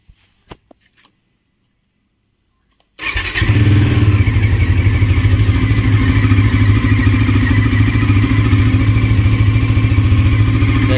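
A motorcycle engine starts abruptly after a few faint clicks, then runs loud and steady with a throaty, rumbling idle and revving close by.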